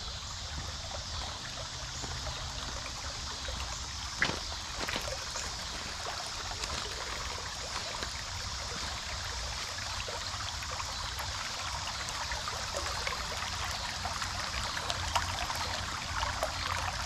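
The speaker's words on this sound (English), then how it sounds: "I love the sound of creek" A creek runs steadily, its water flowing in a constant broad rush and trickle heard up close, with no talk and only a faint knock or two over the even wash.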